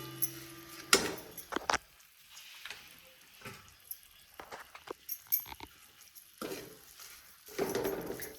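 Jaggery syrup with ghee gets stirred in a pan as a soft bubbling sizzle comes and goes, broken by spoon scrapes and clinks against the metal at close range.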